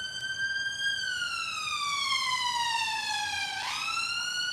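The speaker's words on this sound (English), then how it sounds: "we've got the sirens going now" Police siren passing outside, a loud wailing tone that slowly falls in pitch and then sweeps down and back up in a quick yelp near the end, with a steady background hum.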